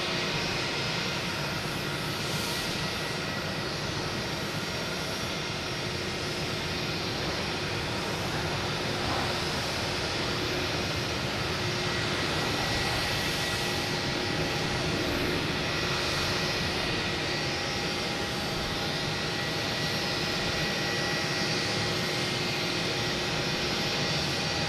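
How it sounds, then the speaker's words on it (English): A United Airbus A319 arriving from Chicago lands at Boston Logan, its steady, broad jet roar filling the whole stretch at a constant close level with no talk over it. "United coming in from Chicago, A319, flight"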